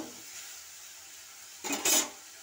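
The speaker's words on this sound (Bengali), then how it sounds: "এটা একটু নেড়ে চাপা দিয়ে দেব" Greens such as gime shak, salted and stirred in a pan, give a soft low sizzle and rustle, followed near the end by a couple of brief louder clatters as the lid goes on.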